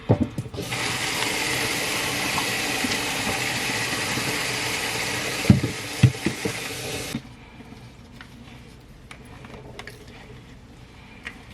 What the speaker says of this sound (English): I'm just gonna top it up with some more water